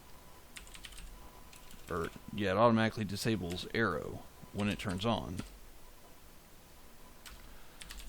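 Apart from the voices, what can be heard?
typing on a computer keyboard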